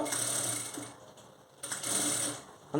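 A sewing machine stitches invisible-thread piping onto blouse lining in two steady runs of rapid, even mechanical whirring, close by, separated by a brief lull with no talk.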